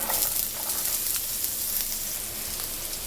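Cumin and onion sizzle in hot oil in a pan on a gas stove, a constant bright hissing crackle at even loudness, close and alone.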